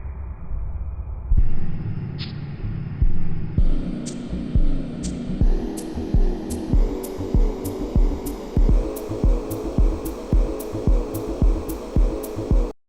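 A short musical sample loops repeatedly in MilkyTracker with a pulsing beat, each repetition trailing a lingering reverb wash that carries continuously into the next.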